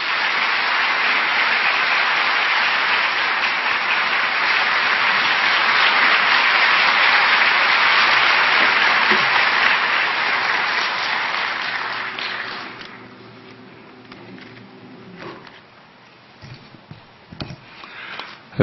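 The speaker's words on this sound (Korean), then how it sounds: "우리 박수로 환영하겠습니다." A church audience at a Korean early-morning prayer service claps in welcome, the applause dense and loud for about twelve seconds before it fades to scattered claps and then near quiet.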